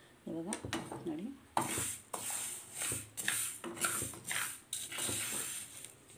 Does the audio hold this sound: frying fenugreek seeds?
yes